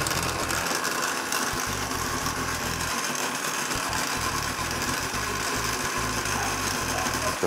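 A blender whirs loudly and continuously while chopping basil leaves with parmesan and oil, its motor pitch pulsing as the blades catch the mixture.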